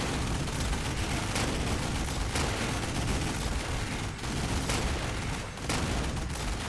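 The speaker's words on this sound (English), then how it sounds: "We have a couple anti-aircraft guns there just covering each other with fire." Anti-aircraft guns in a video game fire in a loud, relentless barrage of overlapping rapid bursts and booms that fills the whole stretch with hardly a pause.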